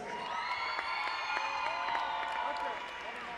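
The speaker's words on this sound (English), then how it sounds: "Please give a round of applause to Mr. Troy Gilchrist." At an evening high school event, an audience applauds and cheers for a cross-country senior. The dense, steady clapping and crowd noise fill the whole stretch at moderate distance.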